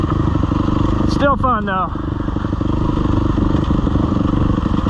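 Husqvarna dirt bike riding over loose rocks, a constant close engine drone with rattling and scraping of stones under the tyres, briefly overlapped by a short spoken remark from the rider.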